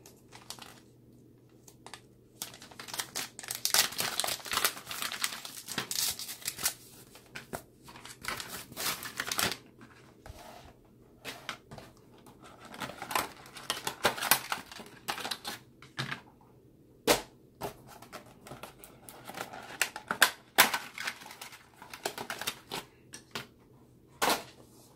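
Olixar phone cases for an iPhone 8 Plus being torn out of their packaging, with irregular crinkling, ripping and tapping bursts close by and no talking.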